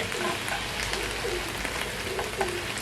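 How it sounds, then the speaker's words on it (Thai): Thai curry paste sizzles and fries steadily in a pan for a clean-eating stir-fried dory fish dish, a continuous close crackle with small pops and no talking. "คือให้เครื่องแกงมันเดือดสักนิดนึงนะครับ"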